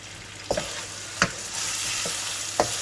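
Chicken with salt sautés in a pan under a steady sizzle, while four distinct scraping strokes of stirring cut through at irregular intervals, close and clear without talk.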